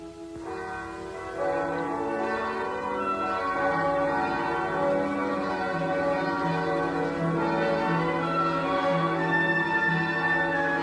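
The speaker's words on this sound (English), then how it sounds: "Bells" Church bells ring out steadily, their rich overlapping tones sustaining and swelling after a quiet start, with no voices.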